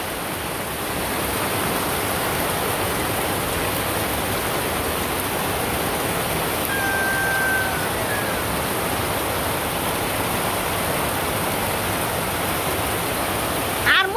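Heavy rain roars steadily in a dense, close wash of noise that holds constant. A brief faint tone rises partway through, and a small knock comes at the very end.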